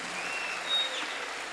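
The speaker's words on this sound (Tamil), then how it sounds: "ரொம்ப அழகாக அந்த ஸ்டேஜில் பெர்ஃபார்ம் பண்ண அந்த கேஜி ஸ்டூடெண்ட்ஸுக்கு ஒரு பெரிய கைத்தட்டல்" A faint, brief burst of audience clapping for kindergarten students after their stage performance, soft and distant, swelling slightly midway.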